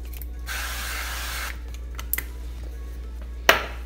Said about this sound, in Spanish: en este caso voy a usar spray de aceite de coco